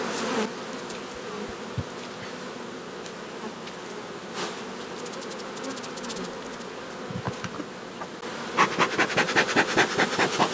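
Honey bees buzz steadily around an open hive in a dense, continuous hum that grows louder with rapid clicks and taps near the end, with no talking.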